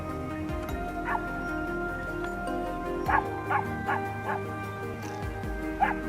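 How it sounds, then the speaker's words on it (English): A hound barks during a wild boar hunt on a Texas farm, sounding as a string of sharp, mid-distance barks, some in quick pairs, over a steady low background hum. "the hound's barking"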